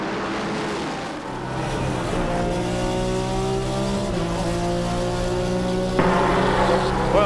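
Several Porsche race cars, including 934s and 935s, roar off at a historic racing reunion start, their engines loud and rising in overlapping pitch sweeps with a sharper surge near the end.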